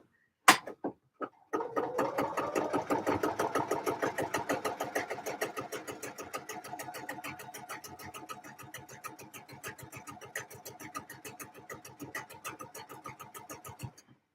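A sewing machine topstitching the pocket edges of a skirt, starting with a few single clicks and then running a long, fast, even rhythmic stitch that slowly fades, quiet and close.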